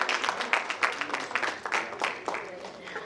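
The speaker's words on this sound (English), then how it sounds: "Please give her a huge round of applause." Audience applause at a panel session of the New Delhi World Book Fair, a steady spread of claps from the crowd that swells and thins in small waves over a few seconds, moderately loud.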